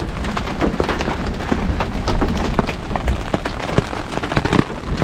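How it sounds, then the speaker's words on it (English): Hail falling on Shelf Road near Cañon City, Colorado, with many quick hard impacts rattling in an irregular, dense patter that is loud and close throughout. "You have to see the size of this hail coming out."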